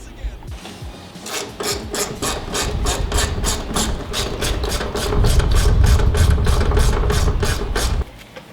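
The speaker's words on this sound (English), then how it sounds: "undoing these bolts" A ratchet undoes bolts on an E30 shock assembly, a fast, regular train of rasping clicks that runs for several seconds over a rumbling background and then stops abruptly.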